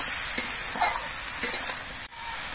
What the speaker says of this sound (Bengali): এবার সব কিছু দিয়ে নেড়ে চেড়ে মিশিয়ে দিতে হবে।